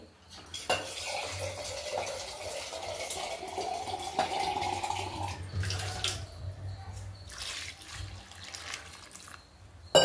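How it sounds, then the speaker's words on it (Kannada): Water poured from a vessel into a pot of village-style sambar, a steady splashing pour lasting several seconds alongside light clinks of metal utensils, close and moderately loud. "ಇನ್ನೊಂದು ಸ್ವಲ್ಪ ನೀರು ಹಾಕೋಬೇಕು. ನೀರು ಸೇರಿಸ್ಕೊಳ್ತೀನಿ."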